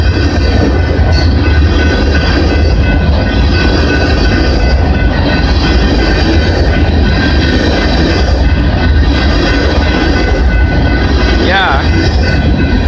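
Freight train passing on the Windsor and Galt Sub in London, Ontario, a loud continuous rumble of rolling cars with clickety-clack and a brief wheel squeal near the end.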